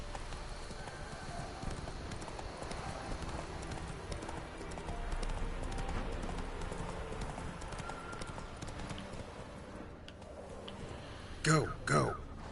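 Hooves of the horse Roach pound in a steady galloping clip-clop in The Witcher 3, mixed with game ambience, while someone briefly speaks near the end.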